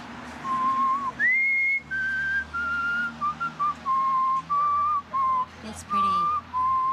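A person whistles a slow, melodic tune in clear separate notes and short phrases, fairly close and alone, with light background hiss.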